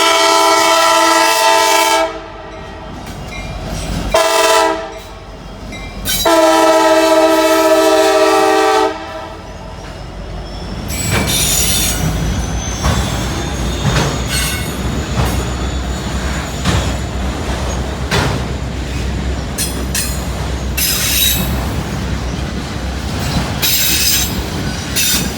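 An EMD diesel locomotive sounds a loud horn in several blasts, then its train rolls past in a long, steady rumble with rattling wagons and faint squealing wheels.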